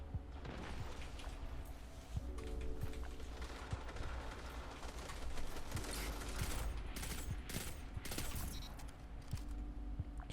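A Forge's Pledge pulse rifle in the Destiny video game fires in quick repeated bursts amid other gunfire and mechanical clatter, with dense, fairly loud crackling shots throughout.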